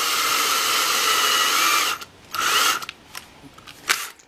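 A power drill whines steadily and close for about two seconds while spinning a crooked wire antenna whisker straight, then runs in shorter bursts with clicks and handling noise in between.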